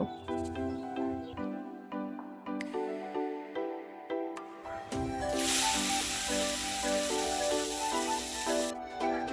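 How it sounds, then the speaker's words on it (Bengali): Fish seasoned with salt and turmeric frying in hot oil in a home kitchen pan; a steady, bright sizzle swells up partway through and continues loudly over background music. "মাছগুলো ভেজে নিয়ে ফিরে আসছি"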